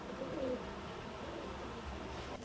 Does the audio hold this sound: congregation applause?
no